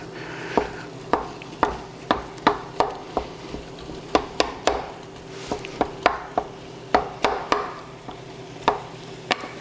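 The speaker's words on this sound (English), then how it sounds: "browning this with the onions and the garlic is just going to put more flavor into every single bite that you have" Ground beef browning with onions and garlic in a pan, a utensil striking and scraping the pan in a steady series of sharp knocks and taps, close and fairly loud, over a low background hum with no talking.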